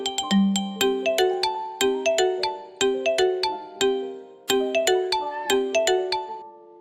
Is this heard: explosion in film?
no